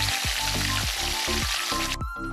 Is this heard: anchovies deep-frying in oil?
yes